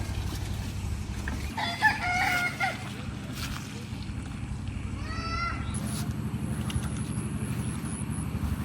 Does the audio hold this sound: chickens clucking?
yes